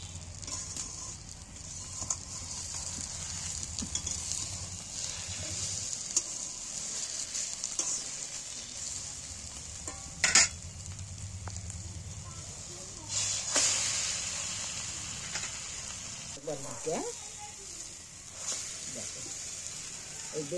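Eggs and eggplant fry in a covered pan with a steady, fairly faint sizzle and hiss, broken by a few louder scrapes and clatters as the food is handled.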